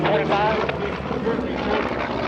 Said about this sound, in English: Now, as he takes the airplane, Vought Corsair World War II Navy and Marine Corps fame